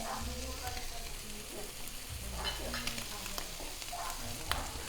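Carne de sol frying and being stirred in a pan with calabresa and bacon, a steady sizzle with scraping stir strokes under faint talk.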